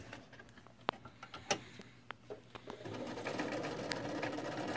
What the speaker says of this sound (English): you are going to start sewing at the very top edge and sew all the way down onto this side facing piece